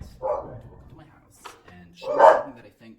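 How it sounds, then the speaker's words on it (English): Dogs bark indoors at home, two separate bursts of barking a couple of seconds apart, moderately loud, with faint rustling and small sounds in between. "now's the perfect time for my dogs to start barking"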